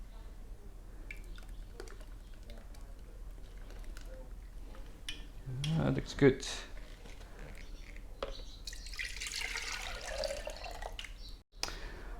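Water is added to a container of sugar wash and shaken, making sloshing, dripping and splashing sounds over steady background noise. A voice speaks briefly.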